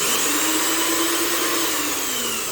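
A repaired paint sprayer pump runs continuously while building pressure, a loud, close, steady motor whine with a sustained tonal hum and no talk over it.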